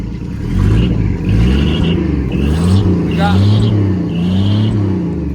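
A classic 1956 Chevy V8 idling after a cold winter, a loud close rumbling engine that rises and falls in gentle surges as the throttle is blipped, with someone talking over it.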